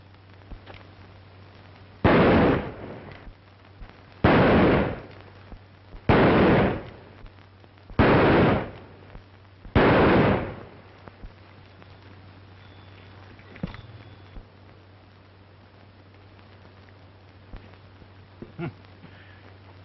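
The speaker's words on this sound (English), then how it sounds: "That's pretty good shooting." Five sharp gunshots ring out at steady intervals during target shooting in a classic western film, each a loud crack with a brief tail, followed by quiet ambience and faint background noise.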